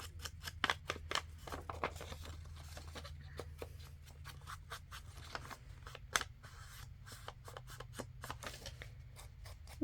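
Scissors snip repeatedly through a book page to cut the front of a handmade paper pocket, a quick irregular series of crisp close cuts over a faint low hum, with no talking.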